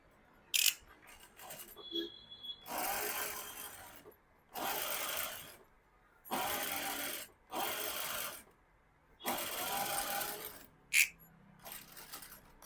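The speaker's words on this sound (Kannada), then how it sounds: "ಈಗ ಇದನ್ನು ಫೋಲ್ಡ್ ಮಾಡಿ ಸ್ಟಿಚ್ ಹಾಕೊಳ್ತೀನಿ." A sewing machine stitching folded blouse fabric runs in five steady bursts of rapid mechanical whirring, each lasting about a second or two and separated by short pauses, with small clicks and handling taps between runs.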